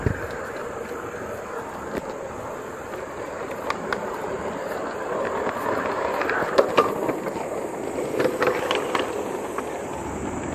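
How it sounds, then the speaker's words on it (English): Rail cars rolling through track points in a small heritage rail yard, wheels giving a sparse scatter of clanks and metallic rattles over a low continuous rumble, moderately distant. "I think they're just rattling over a set of weird tracks, though."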